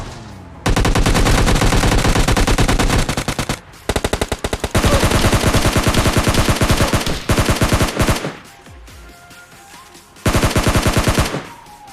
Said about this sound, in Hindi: मैं ऐसी गोलियां चला जाता हूँ